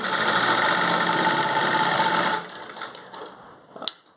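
A sewing machine stitches a fall onto a saree with a loud, fast, steady whirring run that stops after about two seconds, followed by faint handling clicks and a soft knock.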